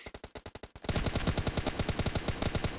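Automatic gunfire in PUBG Mobile: a string of separate, evenly spaced shots gives way to a denser, continuous rapid-fire burst, loud and close with no talking.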